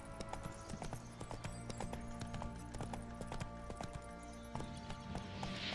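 Horse hooves clip-clopping in The Witcher III during a ride through a forest, a fast rhythmic trot of close, crisp hoofbeats against quiet background ambience.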